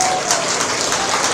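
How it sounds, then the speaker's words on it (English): Audience at a hog show gives the exhibitors a steady round of applause: dense, bright clapping throughout, fairly loud and close. "Let's give a round of applause for our exhibitors."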